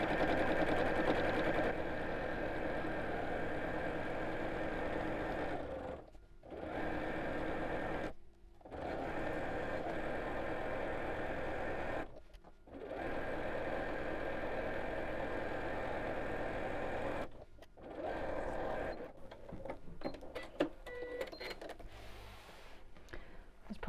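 A sewing machine stitches around a fabric book cushion with a steady, close whirring hum, stopping several times for short pauses as the work is turned, then running in choppier bursts.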